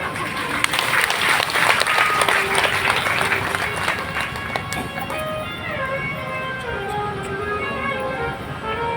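A large audience claps loudly and continuously at a Shiv Mahapuran katha, a dense wash of applause with crowd murmur, while a few sustained musical tones rise in the background as the clapping thins slightly.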